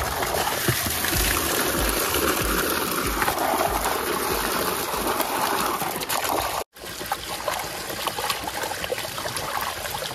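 Vegetables are washed under a steady stream of running water, a constant close splashing rush that breaks off for a split second and then carries on.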